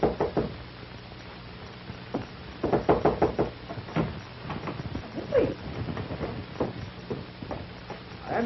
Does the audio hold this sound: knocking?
yes